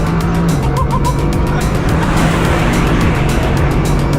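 A 2021 Bugatti Chiron Super Sport launching under launch control, a loud, dense, sustained engine roar close by with a faint tyre squeal, with no talking.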